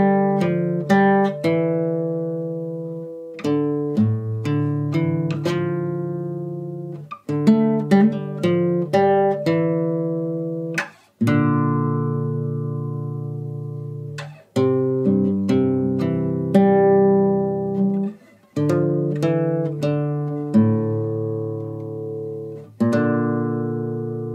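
A guitar plays a line of a melody from The Last of Us Part 2 as clean, close single notes and brief chords, each ringing out and fading, in several phrases with short pauses and no talking.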